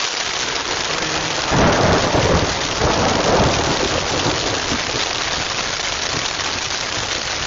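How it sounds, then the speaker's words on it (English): Heavy rain pours steadily close by outdoors while deep thunder rolls through the middle of the storm, with no one speaking. "I don't get the impression that the thundercloud is passing by"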